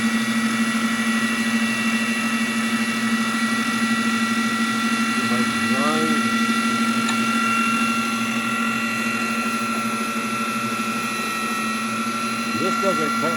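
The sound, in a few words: wet saw blade grinding obsidian rock with water spray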